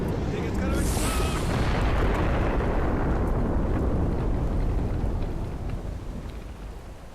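A huge, rumbling explosion as a boss is destroyed in the Guild Wars 2 video game, starting with a bright blast and rolling on as a long, dense roar that slowly fades over several seconds.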